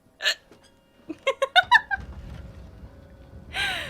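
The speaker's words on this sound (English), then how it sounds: "I'm so sorry about my hiccups." A girl hiccups in a quick series of about seven sharp, close, voiced jerks in a quiet room while playing a horror game, ending with a breathy exhale.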